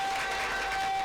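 A studio audience at a televised show applauding, a brief burst of dense crowd clapping and cheering, loud and continuous.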